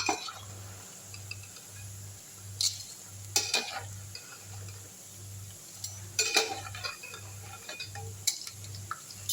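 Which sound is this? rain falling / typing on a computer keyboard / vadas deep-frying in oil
vadas deep-frying in oil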